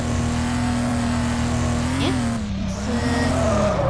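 A fast car in the Demolition Derby 3 racing game holds a loud, steady engine drone close up. The pitch climbs briefly and then dips as the car slides, with faint tire noise underneath.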